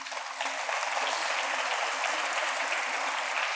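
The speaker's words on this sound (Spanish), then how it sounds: "Fuerte aplauso." A church congregation breaks into loud applause that swells quickly and holds steady and dense.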